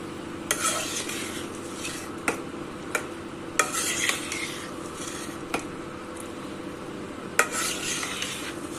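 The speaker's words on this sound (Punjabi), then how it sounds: "ਆਲੂ ਨੂੰ ਇੱਕ ਤੋਂ 2 ਮਿੰਟ ਤੱਕ ਫਰਾਈ ਕਰਾਂਗੇ" Potatoes frying in a spiced pan for chilli potato, with a steady sizzle under repeated scraping and clinking stir strokes of a utensil against the pan, close and fairly loud, no talk.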